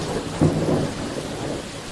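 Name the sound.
heavy rain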